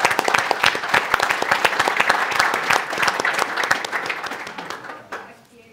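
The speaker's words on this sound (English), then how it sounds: "Applause for Brandon." Audience at an entrepreneurs' forum on the blue economy applauding, a dense, steady burst of many hands clapping that carries on for several seconds and then fades out as the clapping thins.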